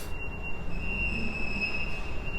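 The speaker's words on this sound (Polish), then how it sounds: "Wjeżdża pociąg osobowy kolei mazowieckich" A Koleje Mazowieckie passenger train pulls into Warszawa Zachodnia, its wheels giving a loud sustained high squeal over a steady rumble of rail cars, with no voices.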